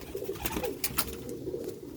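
Rooftop pigeons coo in soft, repeated low rolling calls nearby, with light rustling and scattered brief clatters around them.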